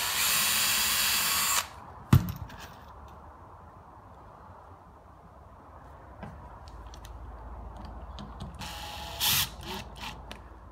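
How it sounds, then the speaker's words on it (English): Power drill boring pilot holes near the edge of a wooden board for hinges on a folding sawhorse, a loud steady whine for about a second and a half, then a sharp click and quiet shop sounds with another short burst near the end. "And I'm going to drill because I'm right on the edge."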